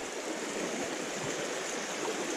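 The Upper Teign river in Devon rushes in a steady, unbroken broadband wash, close and continuous, with no voices.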